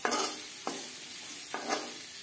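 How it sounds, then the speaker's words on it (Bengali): Boiled potatoes fry lightly in a pan with salt, turmeric and red chilli powder, a soft sizzle broken by three short scraping stirs, quiet and close. "লবণ, হলুদ ও সামান্য পরিমাণে লাল লঙ্কার গুঁড়ো দিয়ে আলু আমি হালকা করে ভেজে নিলাম"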